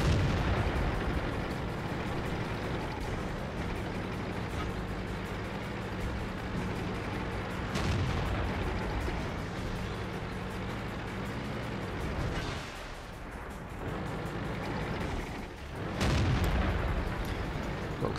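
Tank cannons firing in World of Tanks, booming shots over a continuous engine rumble, with sharp blasts near 8 and 16 seconds and a brief dip in between.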